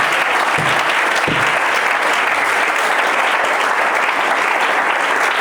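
A church congregation at a French-language worship service breaks into sustained, loud applause that fills the room evenly from start to finish, with no voices standing out above the clapping.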